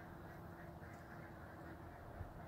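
Ducks quacking in a steady, busy chorus at a moderate distance, outdoors with no voices.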